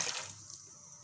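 Water poured into a cooking pot of soaked lentils and potatoes for dhaba-style chana daal kebabs, a brief soft splash that fades quickly, faint and close.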